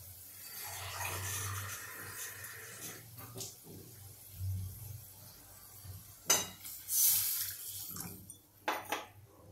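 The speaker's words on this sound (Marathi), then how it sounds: "आणि आता पाणी टाकते." Water poured into a pot of thin dal (lentil curry), a soft splashing gush rising and falling in bursts with a few light pot clinks, close and moderately quiet.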